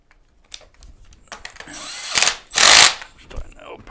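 Power tool tightening a wheel nut on a Pride Mobility Go Go LX mobility scooter, with short bursts of whirring close up, the loudest two near the end.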